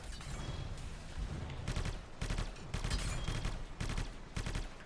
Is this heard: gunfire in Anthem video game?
yes